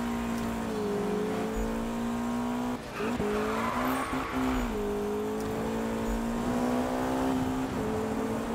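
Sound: car accelerating in video game Need for Speed 2015

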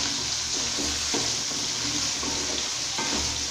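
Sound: brinjal (eggplant) pieces frying and being stirred in oil

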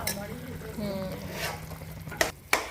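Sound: sugar syrup bubbling while cooking

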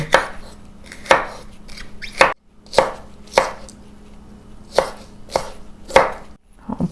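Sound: slicing aromatics with a knife for chicken feet salad

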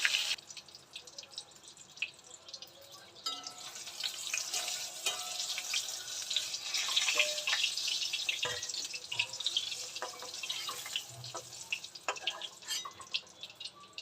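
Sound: pointed gourd frying in oil

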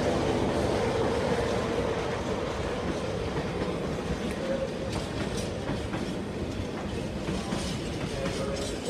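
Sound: container freight train passing at Peterborough station

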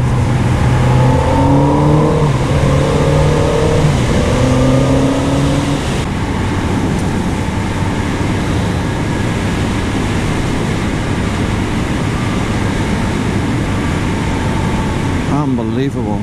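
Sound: Kawasaki Z900RS motorcycle riding on a road

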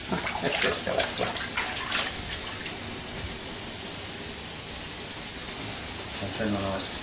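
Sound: water running into a wine spa bath

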